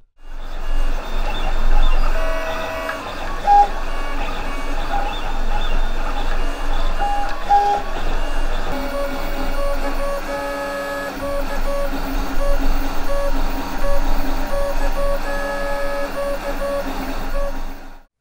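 A Lulzbot TAZ 3D printer runs continuously while printing heavy plastic parts for a droid's legs, its stepper motors whining and warbling in shifting tones, loud and close, with no one talking.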